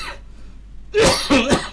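A person in a room gives a few sharp, close coughs in quick succession after a brief quiet pause.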